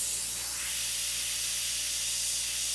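An airbrush sprays paint while glowing light is painted onto a lamp post, giving a steady, close, unbroken hiss with no talking.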